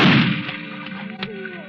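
In a 1947 suspense radio drama, a single loud, close gunshot cracks at the very start and then rings away in a decaying tail, with faint sounds trailing after it.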